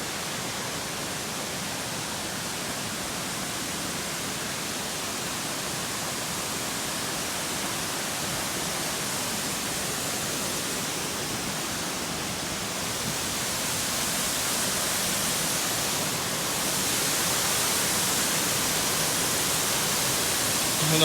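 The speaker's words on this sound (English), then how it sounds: "don't know if you can hear me with the roar of the water" Steady, loud roar of a waterfall beside a mountain trail in winter, a continuous broadband rush of falling water that holds constant and swells slightly toward the end, with no voices over it.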